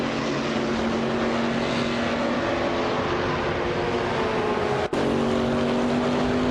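A Lamborghini Gallardo GT3 in a racing video game holds a loud, steady engine drone with whining harmonic tones that shift slowly in pitch, broken by one abrupt momentary cutout before resuming.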